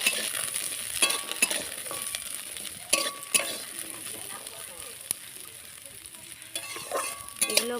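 Beans and carrots fry in mustard oil in a wok with a steady sizzle, punctuated by sharp clinks and scrapes of a spatula against the metal at irregular intervals, close and fairly loud.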